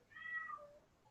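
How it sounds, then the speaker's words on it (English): A pet cat meows once, a drawn-out, falling cry lasting under a second, faint and alone against quiet room noise. "you can hear my cat crying"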